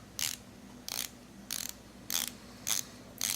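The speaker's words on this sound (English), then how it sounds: "You have a nice PVD coated bezel, and the bezel is 120 clicks." Borealis Sea Dragon dive watch with a PVD-coated 120-click bezel being turned, giving six short bursts of crisp ratcheting clicks spaced about half a second apart, close and fairly quiet.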